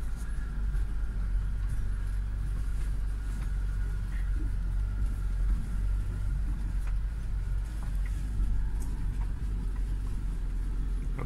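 A 2019 UAZ Patriot SUV rolling downhill off-road, its engine a steady low drone with a constant rumble and faint creaks from the body over rough ground.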